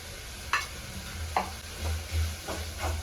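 Chopped tomato and onion fry in a pan, a faint soft sizzle under a few sharp spatula taps and scrapes against the metal.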